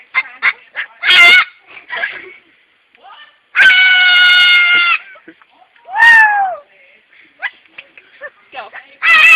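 A pet bird lets out loud, close squawks and drawn-out yelling calls mixed with short chirps and whistles, and people speak briefly between the calls.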